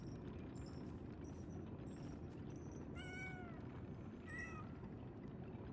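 A pet cat gives two short meows about a second apart against a constant low hum, soft and close.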